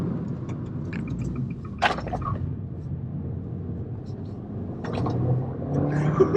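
A 165 hp Abarth F595 drives a country road, its engine a low, steady drone beneath someone talking, swelling slightly toward the end.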